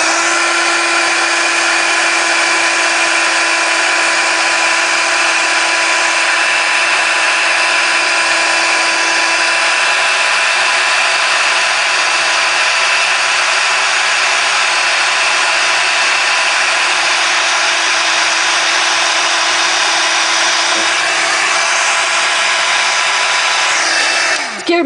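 A handheld heat tool blows steadily on sand at the base of an art piece, a constant loud whirring hiss with a faint hum that holds evenly throughout, alone without talk, cutting off abruptly at the end.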